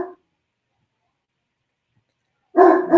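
Colby the dog lets out a short bark, then after a long silence gives a louder, closer bark that runs into a second one.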